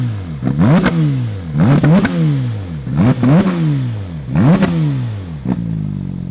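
Porsche 992 GT3 RS with an aftermarket RYFT exhaust, revved four times in a row, each blip rising sharply then falling away, loud and close with no talk.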